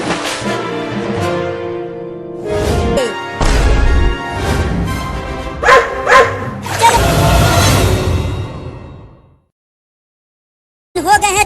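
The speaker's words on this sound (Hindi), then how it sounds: "वो देखो उस कुत्ते ने एक और कुत्ते को बुला लाया।" Two dogs bark in a comedy sketch, giving several loud, close barks and yips in bursts over about nine seconds with clatter mixed in. A short silence follows before another brief burst.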